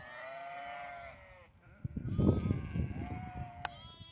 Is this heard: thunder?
no